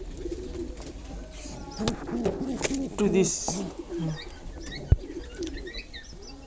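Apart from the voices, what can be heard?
breeder pigeons cooing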